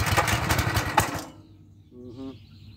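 A Simpson 4000 psi gas pressure washer engine runs with a loud, rough, close-up chugging that suddenly cuts out, leaving near silence broken only by a brief faint tonal sound.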